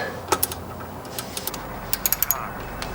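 A ratchet with a 13 mm socket tightening the clutch line on a Porsche 944, making quick bursts of light metallic clicks, close up with short pauses between the strokes.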